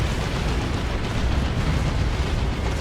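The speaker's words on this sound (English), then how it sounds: "Those are D-cannon shots going in there." Continuous heavy explosions from D-cannon shots landing in the Dawn of War 2 real-time strategy game, a dense rumbling barrage of booms blending into a steady loud roar.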